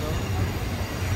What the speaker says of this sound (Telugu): సో అదంతా మేము ఎక్కిన ట్రైనే